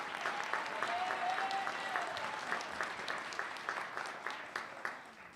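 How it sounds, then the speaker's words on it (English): Steady applause rises from the crowd at a city inauguration for a state representative, fairly faint and distant clapping that continues evenly throughout. "Round of applause for Juana."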